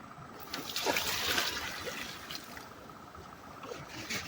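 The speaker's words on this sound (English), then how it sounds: "Okay, I'm going to pour this in." Water pours into a garden water tank beside a giant pumpkin plant, a faint splashing trickle with a slightly louder gush early on, then a soft steady flow.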